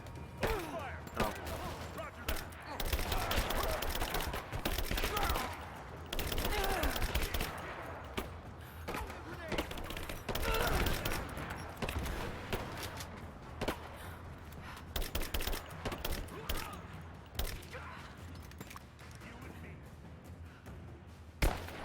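Gunfire in Rise of the Tomb Raider, repeated bursts and single shots spread across the stretch with short gaps between volleys, with a voice speaking at times under and between the shots.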